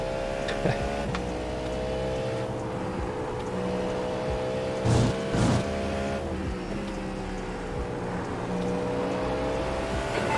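Race car engine in a sim racing video game at Watkins Glen, a steady loud drone with shifting pitch running throughout, with a brief surge of louder noise midway as other cars pass close by.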